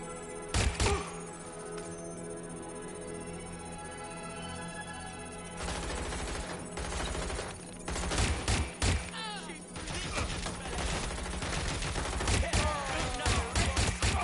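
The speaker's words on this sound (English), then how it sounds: "Someone's shooting." Gunfire in Watch Dogs Legion, with repeated sharp shots and rapid bursts breaking through a steady droning backdrop of game ambience and music, some volleys loud and close, others clustered in quick strings.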